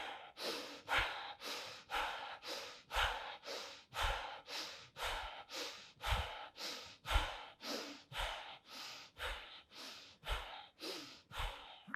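Rapid, rhythmic breathing during a yoga breathwork exercise, roughly two sharp breaths per second repeating steadily and close up, with no talking.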